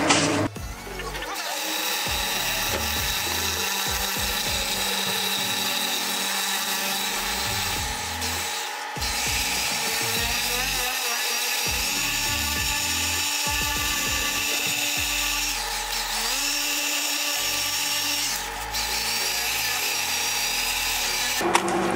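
A power polisher whines and drones steadily while leveling a painted surface with craters and specks of dirt, its pitch wavering as the pad presses and shifts, with a few brief pauses.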